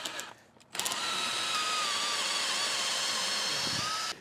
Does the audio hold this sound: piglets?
no